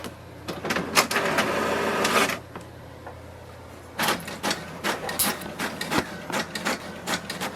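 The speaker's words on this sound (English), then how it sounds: "it will send a command for the printer to print a page" An HP DeskJet 2655 inkjet printer prints a network configuration page, giving a sustained mechanical whir with clicks and feed rattles, then a pause and a run of short, rhythmic bursts as the paper advances, loud and close.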